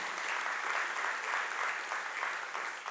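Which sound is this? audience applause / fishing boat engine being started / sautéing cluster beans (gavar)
audience applause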